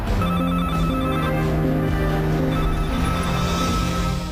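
A mobile phone ringtone plays continuously, a loud repeating electronic melody with sustained tones and no voices.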